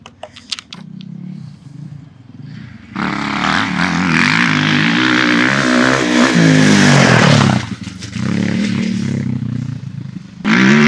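A dirt bike engine revs hard on the throttle, holding a loud, sustained roar for several seconds before the throttle eases off briefly and then opens up again.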